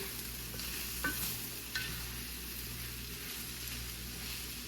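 Ground turkey meat for homemade chili cooks in a pan with a low, steady frying hiss, broken by a couple of faint utensil clicks; no one speaks.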